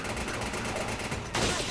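Rapid gunfire from the video game Resident Evil 5, a dense burst of shots that carries on steadily before a louder, harsher blast near the end, with no talking.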